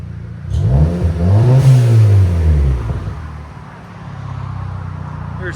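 A 2012 Audi TTS 2.0L turbo with a Vibrant resonator exhaust revs up loudly once, swelling to a deep, throaty peak and then falling back to a steady, rumbling idle close by.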